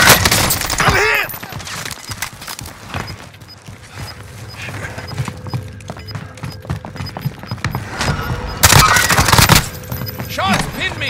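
Gunfire in Call of Duty Warzone on Rebirth Island, scattered sharp shots and bursts mixed with mechanical clicks and clatter, loudest in a heavy volley near the end, with radio-style voices between.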